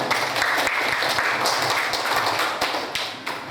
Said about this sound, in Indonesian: tepuk tangan untuk jawabannya Tarisa.